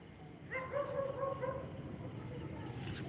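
A street dog gives a few short, high yips and whines close by over a steady, grainy background hiss.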